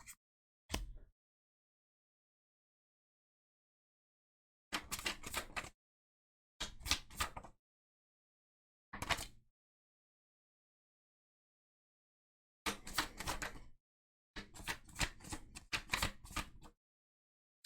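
Oracle message cards are picked up and handled, giving short papery riffling and shuffling bursts separated by long silences, close and fairly quiet.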